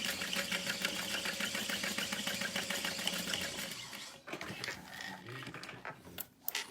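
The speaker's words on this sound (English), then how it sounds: "just sew over those straps again" A sewing machine stitching back over backpack straps runs in a fast, even mechanical chatter for about four seconds, then stops, leaving a few quieter handling clicks and knocks.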